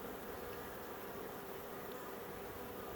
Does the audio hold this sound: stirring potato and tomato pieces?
no